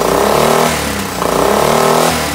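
A Briggs and Stratton 5hp outboard motor on a boat revs hard with its rev limiter unplugged, a loud, steady mid-pitched drone that dips briefly near the middle before climbing back up.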